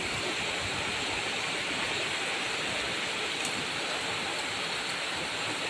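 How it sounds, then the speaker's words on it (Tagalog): Steady rain falls in Singapore with a constant dense hiss, unbroken and fairly close, with no voices. "Pumapatak ang ulan dito sa"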